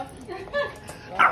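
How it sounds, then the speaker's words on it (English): A dog named in the scene gives short bow-wow barks and yips at close range, several quick bursts with the loudest near the end, while people talk nearby. "What are you barking at?"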